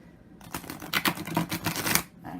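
A World Spirit Tarot Second Edition card deck is shuffled for about a second and a half, close and quick with rapid riffling flicks, no talking.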